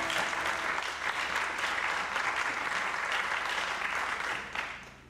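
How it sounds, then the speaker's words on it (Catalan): Live audience applauding a performer at a concert, dense continuous clapping for about five seconds that tapers off near the end. "Un aplaudiment per ell."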